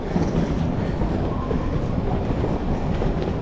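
A train bound for Bangkok rumbles steadily from inside a carriage, a dense continuous roar of wheels and rails with faint rhythmic clatter and no voices.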